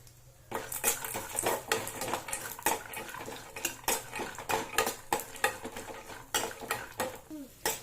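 Peanuts and spices roasting in a little oil in a pan for chutney, heard as a busy run of clattering, scraping stirs against the metal pan with a faint sizzle beneath, close and fairly loud, no talk.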